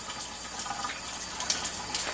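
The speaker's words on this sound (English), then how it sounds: "I just wash my hands quick" Tap water runs steadily into a kitchen sink while hands are washed under it, a short continuous splashing hiss with small bursts as the hands move through the stream, no voices.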